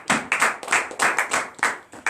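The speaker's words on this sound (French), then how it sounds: "Donnons l'acclamation au Créateur." A congregation at Saturday morning prayer claps in acclamation, a quick run of close, sharp hand claps in a steady rhythm.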